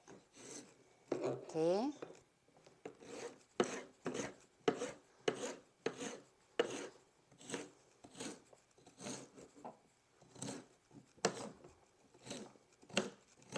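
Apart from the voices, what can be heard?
grating and cutting carrot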